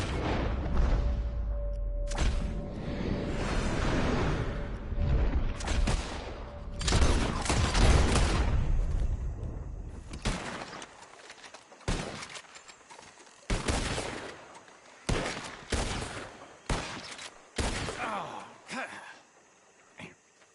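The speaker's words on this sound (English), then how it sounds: "As soon as you see them, start shooting" Gunfire in a PS4 video game: a dense fusillade of shots over the first ten seconds, then a run of separate sharp reports spaced a second or two apart, loud and close, with game voices talking underneath.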